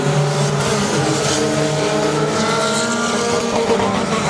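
Race cars roar loudly and continuously around the oval at Saratoga Speedway during a spin and caution, their engines blending into a dense wall of sound.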